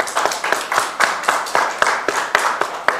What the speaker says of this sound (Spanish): Damos un fuerte aplauso a Ricardo y a Gladys.